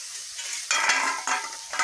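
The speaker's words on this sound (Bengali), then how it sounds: "তার জন্য পেঁয়াজ আর তেল ছেড়ে দিচ্ছি।" Onion sizzles in oil in a pan, with crackling bursts that rise and fall as it is stirred, close and fairly loud.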